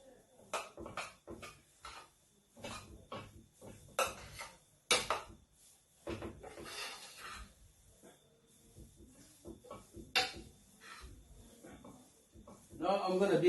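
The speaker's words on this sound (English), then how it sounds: "Now I'm going to add my fried egg. Then mix it together." Spatula scraping and clinking in a pan as fried egg is mixed into a king prawn dish, a series of sharp irregular metallic strokes with soft sizzling and a voice talking between them.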